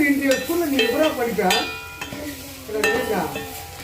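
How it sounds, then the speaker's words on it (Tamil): Food for crab soup sizzles steadily in a hot pan while a utensil stirs and scrapes against the metal, no voices over it. "இப்போ இது வதங்கட்ட கொஞ்சம் நேரம் சிம்பிளை வச்சு வதக்கின்னு இருக்கேன்"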